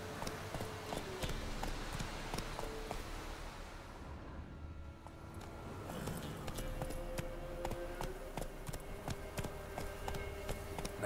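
Roach the horse gallops in The Witcher 3 video game: a steady clip-clop of hooves runs through the whole stretch, easing briefly in the middle before picking up again, close and moderately loud.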